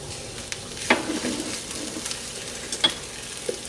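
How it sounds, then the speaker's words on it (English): Minced garlic stirred into golden onions frying in a pan, giving a soft steady sizzle with a few sharp spoon scrapes, close and without talk. "Once your onions are nice and golden, you want to stir in the garlic."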